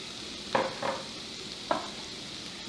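Diced garden onions sizzle in sunflower seed oil in a pan, with a few soft stirring scrapes standing out over a low, steady frying hiss.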